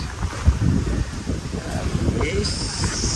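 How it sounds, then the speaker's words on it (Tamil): Wind gusts buffet the microphone near a hotel by Katunayake airport, a rough, continuous low rumble with a faint high tone entering near the end. "பாருங்கள், நல்ல காற்று, சூப்பரான விண்டியாக இருக்குது."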